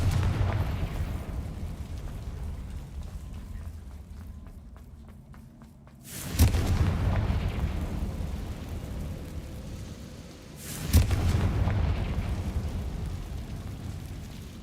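Confringo explosive spell blasts in Hogwarts Legacy, two loud booming detonations several seconds apart over a continuous rumbling game ambience, each blast fading into a rolling tail.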